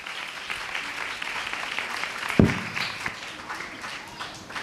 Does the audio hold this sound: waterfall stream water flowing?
no